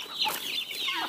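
Chickens on a small farm near Palmas, Tocantins, give a brief burst of close clucking with no voices over it.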